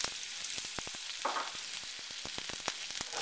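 Ginger and garlic hit a tablespoon of hot oil in a wok, giving a close, steady sizzle with crackling pops throughout and no voices.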